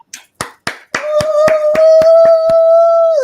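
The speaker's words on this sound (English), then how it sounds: "Let's give him a round of applause" Audience applause for comedian Michael Colyar at a live comedy talk show: a few sharp claps at first, then steady, close clapping with a sustained tone running beneath it.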